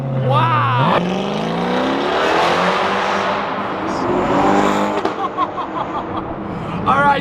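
A $1.7M hypercar screams as it revs and accelerates, loud and close, its engine pitch climbing in long sweeps with a brief tire squeal. A voice talks over it.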